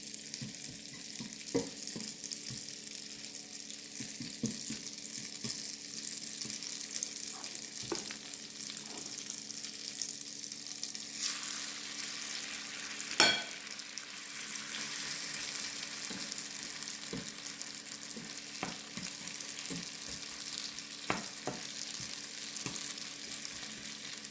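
Vegetarian galettes cooking in a pan over medium heat give a continuous soft sizzle, with occasional light clicks and one sharp knock partway through.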